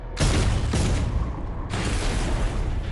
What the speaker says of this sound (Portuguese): bombas aéreas explodem próximas a ele